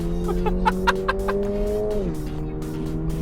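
A Subaru BRZ with automatic transmission revs hard and loud, its pitch climbing steadily before dropping sharply at a gear change, then pulling on again.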